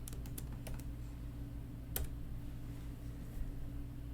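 Keys tapped on a computer keyboard while entering a password to log into a Raspberry Pi, a quick burst of clicks at the start and a single keystroke later, faint and close in a quiet room with a low hum.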